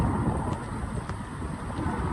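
Snowstorm wind in New York roars as a steady, dense low rumble, buffeting close against the microphone for the whole stretch with no voices.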